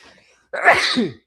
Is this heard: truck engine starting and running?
no